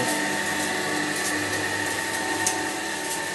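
A stand mixer whisks a nougat mixture in a steady, continuous whirring drone with a constant motor hum, close and loud, with no pauses across the span.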